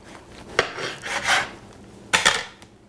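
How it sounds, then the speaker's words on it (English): A knife cuts a cantaloupe melon down the middle on a kitchen board, giving two short scraping, slicing passes with sharp taps as the blade meets the board, close and clear in a quiet room. "You're going to slice your cantaloupe down the middle."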